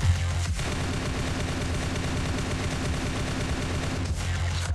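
Steady, dense gunfire from the zombie shooter game Zombie Hunter: Survival, a continuous loud barrage of rapid shots with a brief dip near the start and again toward the end, with no talking.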